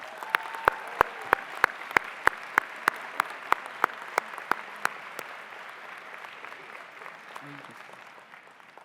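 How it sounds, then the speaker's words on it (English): Applause at a law school commencement ceremony starts with a few sharp, slow, evenly spaced claps, then thickens into moderate crowd clapping that gradually fades toward the end. "So let's give them a big round of applause."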